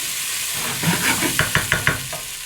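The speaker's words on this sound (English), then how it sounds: "Just stir it in so that it gets cooked a little bit." Tomato puree being stirred into a simmering beef and vegetable stew in a pot, a soft steady sizzle with several distinct scraping stir strokes in quick succession near the end.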